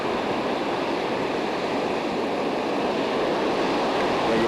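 Ocean surf on the shore at Sandy Hook makes a steady broadband wash, a continuous rushing roar that holds level throughout, mixed with some wind noise.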